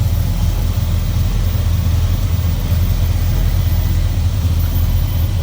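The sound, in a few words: 1964 Oldsmobile Jetstar 88 Jetfire Rocket V8 engine running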